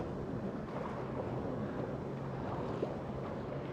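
A 2024 Sea-Doo RXP-X 325 personal watercraft runs across waves on Lake Tahoe, giving a steady dense roar of engine, water spray and wind buffeting the microphone, close and constant, with no voices.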